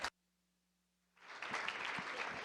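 A conference audience at a youth-focused panel discussion breaks into applause after a brief silence, the clapping swelling quickly into a steady, moderately loud round that carries on to the end.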